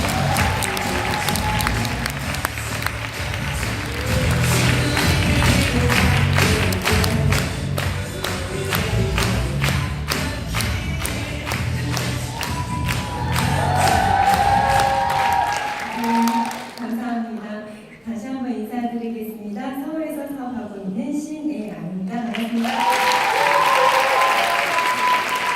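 An audience at a Nu Skin success rally breaks into loud, sustained applause and cheering to welcome a speaker, the clapping dense and continuous before a host's amplified voice takes over partway through.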